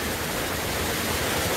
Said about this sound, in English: It's noisy, because that is a noisy waterfall